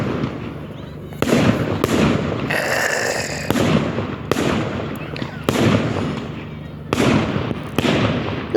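Fireworks bursting over Saltford, a string of loud booms and crackling explosions, some with fizzing whistles, repeating every second or so at mid distance with no talk over them.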